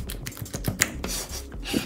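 Store-bought slime is squeezed by hand, giving rapid, crisp little clicks and pops in an irregular patter, close up and fairly loud, with no talking.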